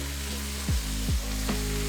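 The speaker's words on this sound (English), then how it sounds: "Saute the carrots for a few minutes and add more seasoning if needed" Garlic and carrots sauté in a pot with a steady, close sizzle, broken by a few short scrape-like knocks from stirring, and no voices.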